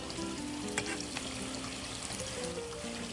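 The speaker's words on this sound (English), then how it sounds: "If it immediately sizzles and floats to the top, you're pretty close on temperature." Hot oil sizzles and crackles steadily as panko fries, with small pops and bubbling throughout, close up and fairly quiet.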